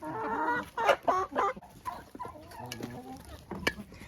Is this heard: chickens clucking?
yes